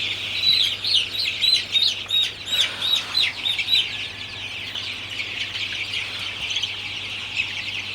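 Dense, high-pitched cheeping from many young chicks fills a poultry shed during hot, muggy weather, a steady chorus of overlapping peeps that is loudest early on and continues without a pause.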